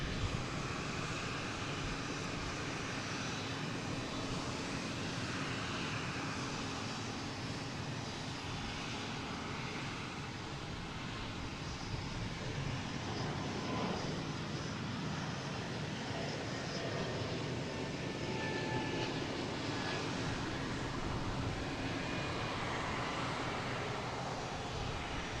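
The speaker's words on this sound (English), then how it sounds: "But first we have Delta taking off to Nashville," Delta jet taking off from Boston Logan for Nashville, flight 2677: a sustained, broad jet engine roar at moderate distance, steady in level from start to finish.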